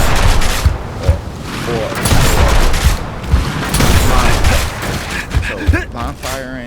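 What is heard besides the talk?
shotgun firing in Gears of War video game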